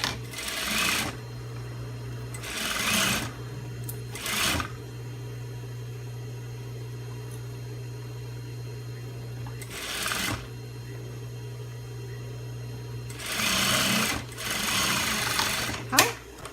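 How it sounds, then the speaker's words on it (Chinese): A sewing machine stitches the seam of a fabric bag with a hidden pocket and curved panels, whirring in several short bursts of varying length with pauses between them and a steady low hum throughout. "那我们再把另外一边也车起来。"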